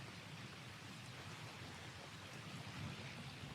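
Soft, steady rain hisses evenly throughout in the video game Farming Simulator 25, faint and distant, with a low rumble underneath and no voices.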